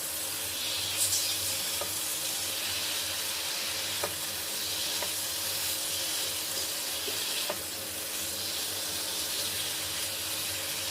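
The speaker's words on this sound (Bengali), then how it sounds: "এবার ভেজে রাখা সয়াবিনগুলো দিয়ে দেবো সয়াবিন দিয়ে আলুটা খুব ভালো করে মিশিয়ে নেবো" Fried soybeans and potato being stirred into cooked spice masala in a hot pan, giving a loud steady sizzle with occasional faint scrapes of a spoon against the pan.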